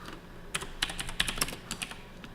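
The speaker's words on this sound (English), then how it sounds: "why am I typing in Visual Studio?" Keys clatter on a computer keyboard during coding in Visual Studio, a quick irregular run of light clicks at close range with no voices.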